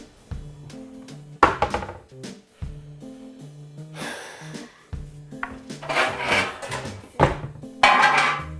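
A shallow metal roasting pan is handled in a kitchen, giving scattered clanks, scrapes and knocks of varying loudness at close range, with stretches of quieter rubbing between them.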